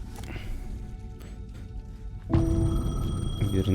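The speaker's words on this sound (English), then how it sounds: "The payphone was ringing." A ringing payphone in the video game Alan Wake 2 starts abruptly partway through as a loud, sustained electronic bell, sounding over a dark ambient game soundscape.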